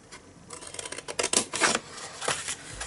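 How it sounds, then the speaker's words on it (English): Long scissors cutting through cardstock while a gift bag with a magnetic closure is being made, a series of close, crisp snips and rustles over about three seconds. "I've got my nice long scissors here."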